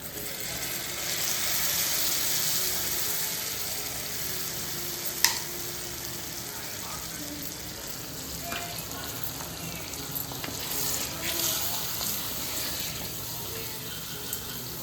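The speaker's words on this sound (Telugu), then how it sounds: "మనం ముందుగా నానబెట్టుకున్న చింతపండు ఉంది కదా మనం ఇట్లా కలిపి పిసికి ఇట్లా పోయాలి" Soaked tamarind water poured into a sizzling Telangana-style stuffed brinjal curry, a steady close hiss of frying with a brief sharp splash and occasional light scrapes and clinks of a utensil, with no talking.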